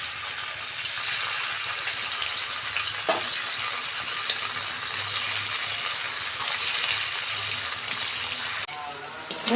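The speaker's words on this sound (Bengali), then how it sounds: "আমি ওই তেলে আমি পনিরটা ভেজে নেব।" Paneer frying in oil left over from fried onions makes a continuous bright sizzle close by, with a sharp knock partway through and a shift in tone near the end; no one speaks.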